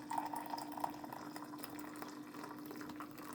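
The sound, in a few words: pouring coffee into a cup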